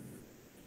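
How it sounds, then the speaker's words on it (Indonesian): Heavy rain driven by strong wind, a dense steady roar with a low rumble, continuous and fairly loud through the brief moment, with no voices. "di tempat saya hujan lebat dengan angin yang cukup kencang ya"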